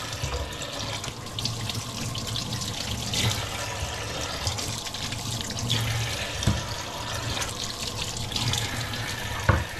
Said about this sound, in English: I'm going to wash the potatoes and then I'm going to boil them